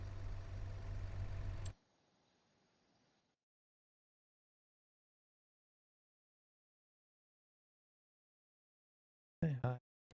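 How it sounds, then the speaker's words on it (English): Vehicle engine idling in the video game Farming Simulator 25: a steady, loud low rumble for under two seconds that cuts off to near silence, followed by a short burst of sound near the end. "I should leave the engine on."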